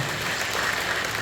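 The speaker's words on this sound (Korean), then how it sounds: "주님께 박수 올려드리겠습니다." A church congregation clapping during worship: a short burst of dense, steady applause filling the room, no speech.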